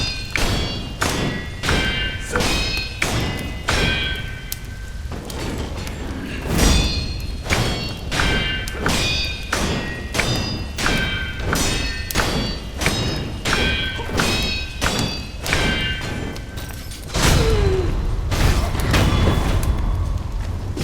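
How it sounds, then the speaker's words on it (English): Sword blocks from the video game Sekiro ring out as sharp metallic clangs in a rapid, rhythmic string of hits, loud and percussive, with a heavier impact near the end and no talk. "Sekiro's gameplay involves a lot of loud metallic clangs"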